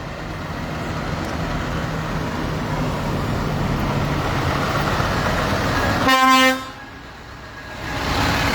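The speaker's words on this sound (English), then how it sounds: "Beeping the horns." Lorries at Dublin port rumble past in heavy traffic, then one truck sounds a loud, long horn blast close by, followed by the return of steady road noise.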